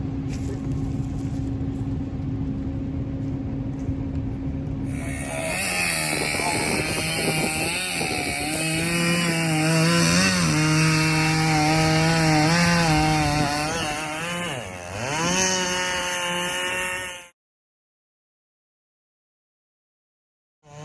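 A chainsaw cuts into a standing tree beside a tractor. The engine is loud and close, its pitch rising and dipping as the bar bites for about twelve seconds, before it stops abruptly into silence.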